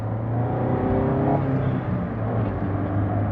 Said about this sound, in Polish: chcąc ruszyć tym autem, musimy dodać tutaj zdecydowanie więcej gazu